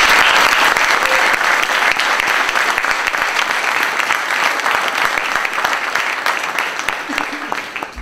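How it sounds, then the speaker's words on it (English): Loud audience applause after a debate on the meaning of life, dense sustained clapping up close that slowly tapers over about eight seconds, with faint voices mixed in. "we'll just give him a hand of applause"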